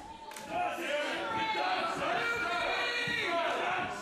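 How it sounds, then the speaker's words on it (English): A vocal wrestling crowd at a Superstars of the Ring event cheers and shouts steadily throughout, a dense roar of voices with a few sharper calls rising above it. "You can hear a very vocal audience here"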